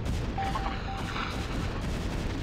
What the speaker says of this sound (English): Your warriors have engaged the enemy.